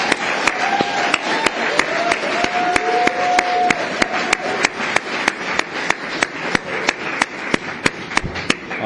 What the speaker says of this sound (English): If we could just give them a real round of applause